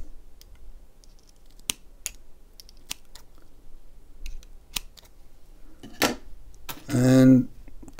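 Scissors trim the cotton wicking of a Hellvape Destiny RTA coil, several sharp isolated snips spaced apart in a quiet room, followed by a short spoken phrase at the end.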